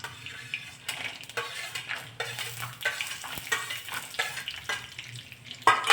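Peanuts and ajwain frying in hot oil for Khandeshi baingan bharta, heard as a close, crackling sizzle with quick stirring scrapes and a few spoon knocks, no talking.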